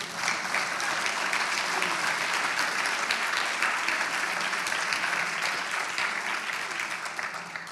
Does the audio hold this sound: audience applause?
yes